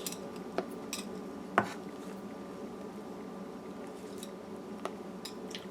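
A spoon works steadily through a thick peda (pera) milk-sweet mixture in a cooking pot, giving a soft continuous scraping with a few sharp metallic clinks against the pot over a low steady hum.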